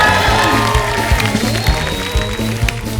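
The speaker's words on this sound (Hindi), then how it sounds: "जोरदार तालियां" Loud studio audience applause on a comedy show, dense clapping and cheering over rhythmic background music with a steady beat.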